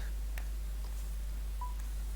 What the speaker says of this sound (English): Pressing a quick dial pad, I place the phone on my ear and wait to the other line to answer.